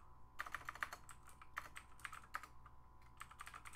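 Rapid keystrokes on a computer keyboard while entering a Linux terminal install command and a password, close and clear, in quick bursts separated by short pauses, with no talking.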